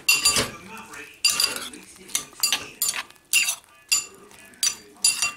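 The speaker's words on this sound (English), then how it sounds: "I'm just going to give that a stir." A spoon scrapes and clanks around a metal pot of soya chunks in boiling water in repeated bursts, a brisk stirring rhythm close by, with little else around it.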